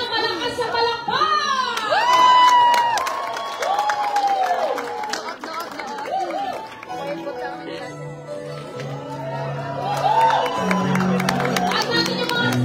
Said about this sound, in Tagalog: Isang malakas sa palakpak!